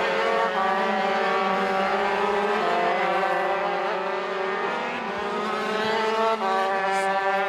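KZ and Rok class racing karts accelerate out of the final corner during a kart race prefinal, their engines a continuous high buzzing whine with several overlapping pitches, loud and sustained.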